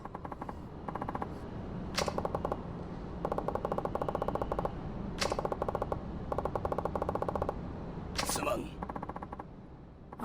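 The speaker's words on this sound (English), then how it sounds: "You shot me with your totally real machine gun." Bursts of machine gun fire from the video game Yakuza 4 rattle out in repeated rapid volleys, separated by brief pauses and a few sharp single cracks, with steady game background noise underneath.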